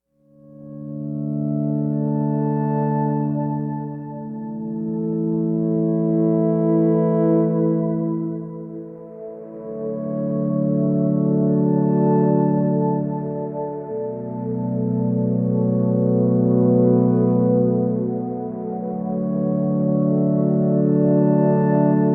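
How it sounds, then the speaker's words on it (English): Sustained ambient synth chords drift slowly from one to the next, warm and resonant, with a tuned resonant reverb giving a long ringing wash and no talking. "We'll take a very quick listen to Seth's recording, both before and after applying this resonant reverb technique"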